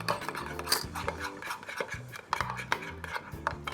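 Overnight oats made from rolled oats and yogurt are stirred with a spoon in a bowl, giving continuous rasping, scraping strokes with occasional clinks against the dish, close and moderately loud.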